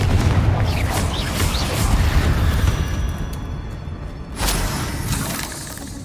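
Confringo and Bombarda spell blasts in Hogwarts Legacy, a dense run of loud booms and shattering bursts layered over rumbling game sound, with no pause between impacts.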